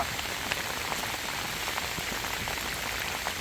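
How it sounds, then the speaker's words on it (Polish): Heavy rain pours down steadily at Le Ghiarine, Italy, a dense continuous hiss with scattered sharper drops, loud and close, with no voices. "I właśnie dzisiaj w tą ulewę"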